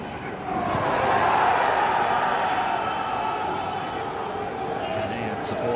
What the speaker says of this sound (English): Ghanaian supporters in the crowd making plenty of noise every time they get into the final third.